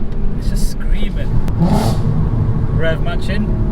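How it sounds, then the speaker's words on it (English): A VW Golf R32 engine blipping during rev matching, with short revs rising and falling over a steady drone, close and loud, and a voice speaking briefly over it. "Rev matching."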